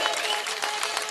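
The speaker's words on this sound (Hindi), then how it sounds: "जोरदार तालियों से स्वागत कीजिए इस नौजवान का" Outdoor crowd at an AAP political rally in Karanj, Gujarat clapping in a brief burst of dense, fairly loud applause.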